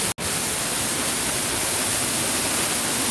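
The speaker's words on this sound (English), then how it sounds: "I'm getting a little wet here because the waterfall is pretty intense down here." An intense waterfall at Epcot roars as a dense, steady rush of water, loud and close, with a brief cutout right at the start.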